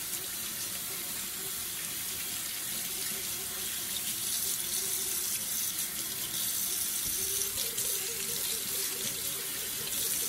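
Hot water runs steadily from a sink faucet, a loud, continuous gushing hiss that fills the whole stretch with little change.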